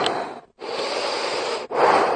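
Deep rhythmic breathing that mimics a choo-choo train, with long forceful breaths separated by short pauses, close and fairly loud with no talk.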